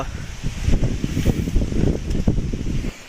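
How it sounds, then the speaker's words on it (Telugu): Strong wind roars and buffets the microphone in continuous gusts, loud and close, with no other clear sounds. "గాలి ఎంత గట్టిగా వస్తుందో"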